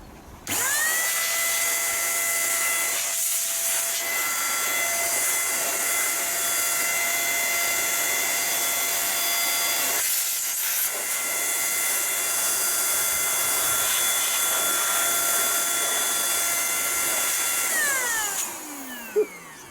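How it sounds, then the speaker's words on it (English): A high-pitched whining high-pressure air blower roars continuously at close range, blowing dust out of a PC, briefly dipping twice in pitch before spinning down at the end, with no voices. "very high pressure blower, basically a vacuum reverse."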